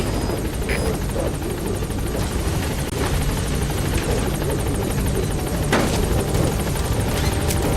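A helicopter in the Metal Gear Solid V video game coming in toward a landing zone, its rotor making a loud, continuous low throbbing chop with a high whine on top, steady and close throughout.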